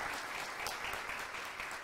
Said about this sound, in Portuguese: Palma para que todo mundo merece.